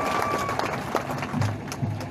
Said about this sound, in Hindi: ठोको ठोको ताली ठोको